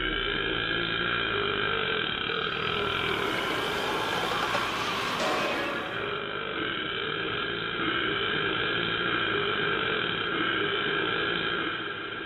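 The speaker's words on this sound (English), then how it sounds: "Then the Great Spirit burped." A long, loud, low burp made by the Great Spirit in a told legend, lasting several seconds over a continuous drone.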